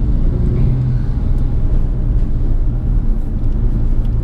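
Nissan 350Z cars drifting at a drift experience event produce a loud, continuous roar of engine and tire noise that stays dense and steady throughout, with no pauses and no speech.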